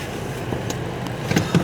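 Cars in a beach car park give a low, steady traffic hum with a faint engine drone, broken by a few short thumps and brief rustles near the end.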